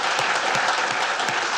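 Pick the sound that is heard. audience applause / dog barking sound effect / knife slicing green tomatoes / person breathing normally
audience applause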